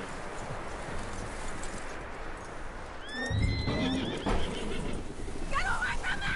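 In Red Dead Redemption 2, a horse whinnies over a dense, noisy background, with clopping hooves and rustling movement nearby.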